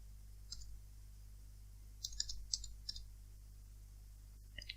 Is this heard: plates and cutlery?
no